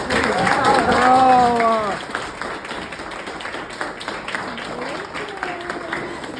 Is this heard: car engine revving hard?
no